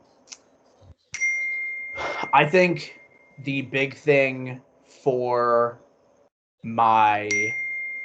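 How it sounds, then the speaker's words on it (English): A laptop gives off notification chimes, clear ringing dings that sit on a sustained tone and recur under and between a man's close speech. "My laptop is giving me all my notifications."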